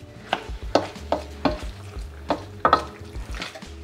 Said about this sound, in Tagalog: Lulutuin ko lang to guys hanggang sa lumabas yung katas ng pork shoulder.